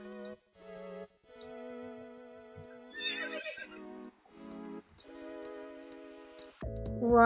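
A horse in the Star Stable Online video game gives a clear whinny partway through, with soft hoof clip-clops and steady game music tones underneath. No one speaks.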